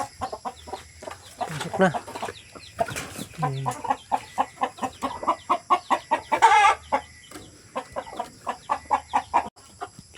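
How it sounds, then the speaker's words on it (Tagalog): Pet chickens cluck and peck repeatedly close by in a farmyard, a steady run of short calls, with a brief spoken word among them. "kumain na yung alaga nating manok"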